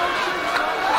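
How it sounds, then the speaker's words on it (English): Arena crowd at a UFC fight roaring and cheering in a dense, sustained wash of voices, loud and steady through the brief moment. "And the crowd loving it."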